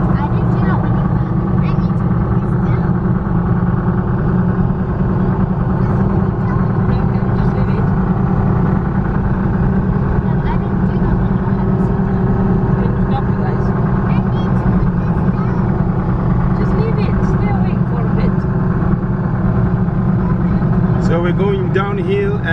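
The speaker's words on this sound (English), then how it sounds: "Our car is very noisy because of the kind of treads that are on the wheels" A loud, constant road roar from thick-tread tires and engine drone inside a moving car on the road from Mazabuka to Kafue, Zambia, steady throughout with a voice speaking over it.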